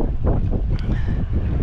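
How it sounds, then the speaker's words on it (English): Strong wind blows outdoors in Vienna, buffeting a nearby microphone with loud, continuous low rumbling gusts that pulse unevenly throughout. "So it's rather windy, so I try to be closer"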